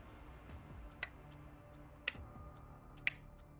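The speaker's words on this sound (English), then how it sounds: "a ticking." Sharp, evenly spaced ticks sound about once per second, four in a row, crisp and fairly close against a quiet, faintly humming background in a sci-fi tabletop audio drama.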